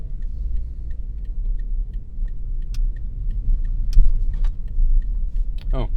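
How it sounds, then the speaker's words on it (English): Cars pass by on a road as a low, steady rumble with faint ticking on top, building slightly near the middle before easing off. "I was waiting for cars to get out of the way."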